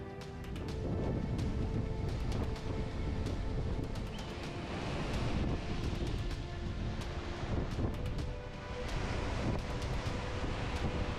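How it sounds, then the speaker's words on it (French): Steady, roaring wind gusts over crashing surf on the western Peloponnese coast of Greece, with heavy waves breaking continuously close by; no voices. "Le vent déchaîne la mer."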